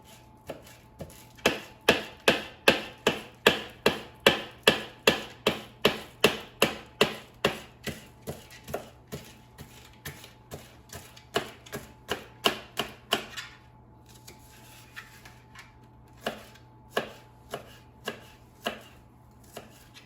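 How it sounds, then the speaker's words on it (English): Knife slicing an onion on a cutting board while making tomato egg stir fry: a fast, steady run of sharp chops, loud and close, thinning into slower, sparser cuts toward the end. "I'm going to also slice the onion"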